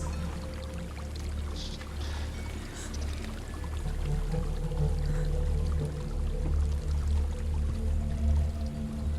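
A waterfall in Hellblade: Senua's Sacrifice rushes continuously, a broad steady roar of falling water that swells slightly louder midway, layered over a low ambient hum.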